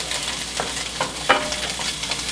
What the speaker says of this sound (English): So these have been in the skillet for a little while, so I'm going to go ahead and stir them.